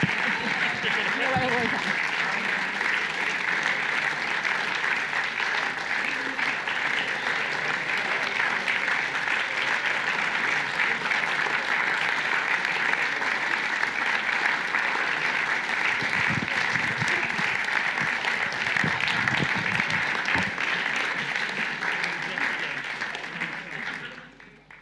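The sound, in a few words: audience applause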